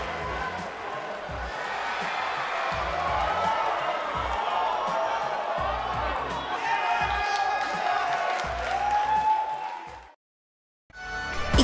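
A live arena crowd in the WWE 2K18 wrestling video game roars and cheers steadily after a one-on-one match, then cuts to a short silence before the noise returns.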